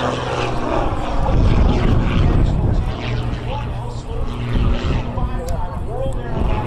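Aerobatic propeller plane rolling and snap-rolling with smoke on at an air show, its engine droning and whining in changing pitch under steady commentary from an announcer.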